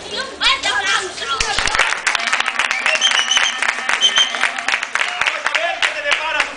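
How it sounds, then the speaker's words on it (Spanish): A lively university audience applauds a volunteer, with loud, uneven clapping mixed with cheers and crowd voices, and people shouting and talking throughout. "¡Y un fuerte aplauso!"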